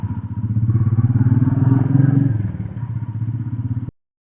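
A Royal Enfield Meteor 350 motorcycle pulls away in first gear, its single-cylinder engine thumping steadily and loud close by, swelling in revs before easing off and cutting out abruptly.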